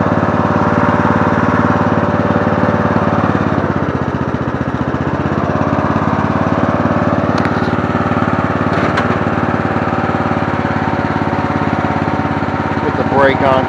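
Murray Select riding mower with a 17.5 hp engine and 42-inch deck idles steadily up close, a loud continuous mid-pitched chug with a brief dip partway through and faint metallic clinks near the end.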